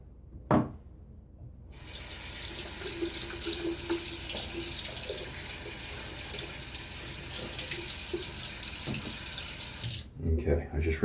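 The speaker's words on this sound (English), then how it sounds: "I was just rinsing off the tub" Tap water runs steadily into a sink to rinse out a shaving soap tub, a continuous hiss and splash lasting about eight seconds, bracketed by a sharp knock at the start and clattering handling noise at the end.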